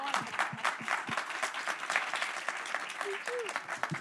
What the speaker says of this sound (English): That deserved a clap.